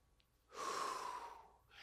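A single sharp breath drawn in through the mouth, a quick gasping inhale as part of a double-inhale calming technique, close and breathy, alone with no talking.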